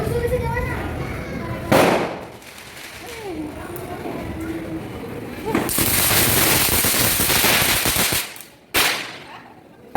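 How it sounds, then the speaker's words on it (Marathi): Several loud Diwali firecracker bursts crackle and pop in quick succession, with children's voices and chatter in between the explosions. "तिथून फटाके वाजवायला सुरुवात केली"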